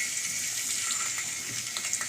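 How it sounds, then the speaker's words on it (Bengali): Water runs steadily into a cooking pot of onions just fried in hot oil, a continuous hiss and splash with no pause. "একটু পানি দিয়ে দিব।"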